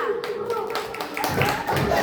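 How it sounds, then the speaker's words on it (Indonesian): Students in a classroom clap for group two, scattered hand claps building toward the end, with voices talking over them. "Oke, tepuk tangan buat kelompok dua."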